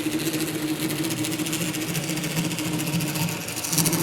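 A Bachmann DDA40X N scale model locomotive with DCC sound runs at about 80% speed, giving a steady, buzzy engine drone with a faint mechanical whir, no talking.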